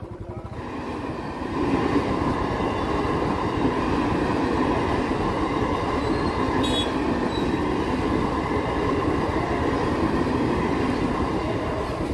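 A train rolls past at the Barasat railway crossing. Its loud, continuous rumble and rattle swells in over the first two seconds, then holds steady and close, with a brief high squeal partway through.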